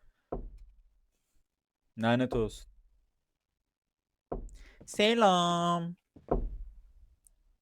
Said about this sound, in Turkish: bir dakika bu tıklama sesi ne?